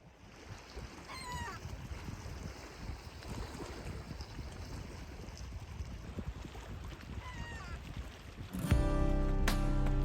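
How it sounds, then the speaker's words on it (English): Water laps steadily at a private lakeside beach at a campsite, a soft continuous wash mixed with wind buffeting the microphone, with a louder rumbling burst in the last second or so. "the sound of the water lapping at our own private beach"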